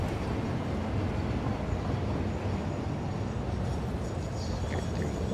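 Freight train pulling into a depot in the factory-building game Satisfactory, a dense, steady mechanical rumble and hum heard alone at moderate level with no voices.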